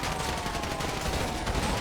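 Dense video-game gunfire in a GTA shootout against a cartel, a continuous loud barrage of overlapping shots with no gaps, rattling on through the whole moment.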